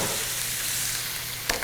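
Zucchini and ground turkey fry in a pan with a steady close sizzle, and a brief scrape of stirring near the end.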